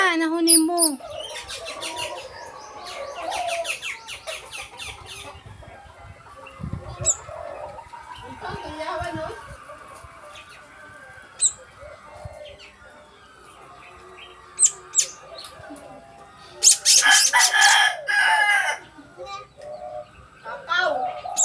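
Pet birds, including pigeons or doves, give scattered chirps and coos with bursts of wing flapping, fairly quiet overall, while a person talks intermittently.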